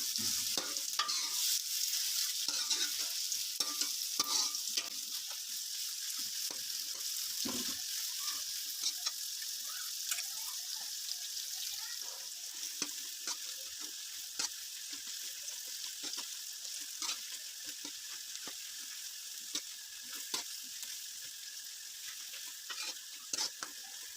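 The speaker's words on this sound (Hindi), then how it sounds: "गरम मसाले सौते करने के बाद हम इसमें प्याज ऐड करेंगे।" Onions sauté with whole garam masala spices for khara masala keema, a steady close sizzle with frequent scraping stir strokes running throughout, no voices.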